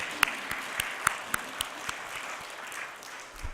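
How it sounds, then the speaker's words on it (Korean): Audience applause in a church worship service welcoming guests, a Eugene Bell Foundation missionary and his wife: faint, scattered claps that thin out and fade within a few seconds. "박수 환영의 박수를 함께 드리겠습니다"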